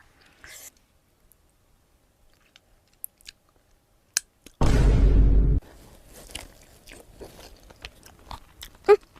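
Someone bites into crispy, very spicy fried chicken and chews it up close, with crunchy bites and wet mastication, one loud burst of noise, and scattered clicks between chews.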